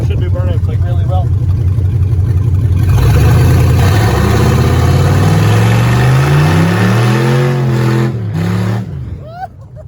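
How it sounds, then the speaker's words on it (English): A yellow GMC truck with a 4.8 V8 and no catalytic converter does a burnout, its engine revving hard and rising in pitch, loud and close, with people talking over it. "Want to do a burnout?"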